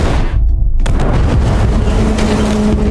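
A remote-detonated bomb explodes in a movie scene aboard a boat, a sudden loud blast that bursts in after a brief hush and then rolls on as a roaring, crackling rumble.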